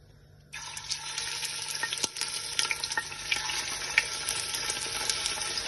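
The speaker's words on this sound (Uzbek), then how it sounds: "Mana go'shtlarimizni qovurishni boshladik." Meat fries in oil heated in a pot on a gas stove. After a quiet start, a continuous crackling sizzle sets in with small pops and spatters.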